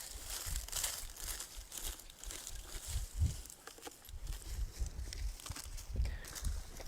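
Frost-damaged begonia stems are snapped and broken off by hand, producing close, irregular crackles and crunching rustles of plant tissue throughout.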